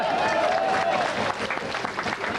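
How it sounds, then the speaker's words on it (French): Audience applause at a 1994 prize-giving ceremony, a steady dense wash of clapping that fills the whole stretch, with a voice talking faintly over it. "on peut l'applaudir."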